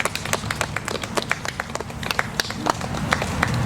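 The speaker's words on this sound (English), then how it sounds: "Everybody clap." An audience claps for a 14-year-old rescue horse at its first ride, a scattered run of hand claps, fairly loud and close, over a low rumbling background.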